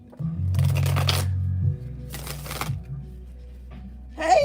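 Two short riffling bursts of cards being shuffled, each about a second long, over a steady low hum, ending with a brief higher sound.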